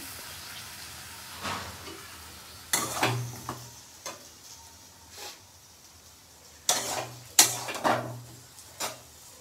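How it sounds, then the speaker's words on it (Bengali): A spiced masala, made with little chili, is stirred and sautéed in a pan: a low background sizzle broken by irregular bursts of spoon scraping against the metal, loudest near the end. "তো এই যে ভালো করে কষিয়ে নিচ্ছি এখন"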